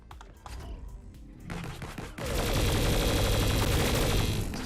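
A ray gun in a video game fires rapidly. A few scattered shots come first, then the weapon breaks into a loud, continuous stream of fire that lasts to the end.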